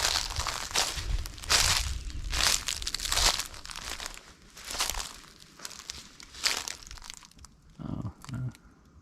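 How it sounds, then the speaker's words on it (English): Footsteps crunching and crumpling through dry fallen leaves in a cemetery at Pumpkin Ridge, Oregon, heard as a steady series of close, loud crunches that stops near the end. "A lot of crunchy leaves."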